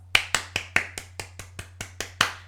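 About ten sharp, evenly spaced hand claps from a single person, quick and close, with a faint steady hum underneath and no talking.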